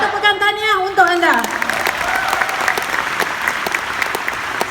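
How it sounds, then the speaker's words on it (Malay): At a recognition event at PWTC in Kuala Lumpur, a voice speaks briefly, then audience applause breaks out and continues as a steady, full wash of clapping to the end. "Satu tepukan tahniah untuk anda."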